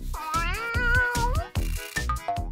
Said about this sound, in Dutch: Oh, een kitten, ga je mee?